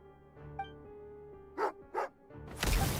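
A dog barking in the video game Genshin Impact, the hunter's dog Tagarin: two sharp, close barks over a steady tonal game soundtrack, followed by a louder rush of noise.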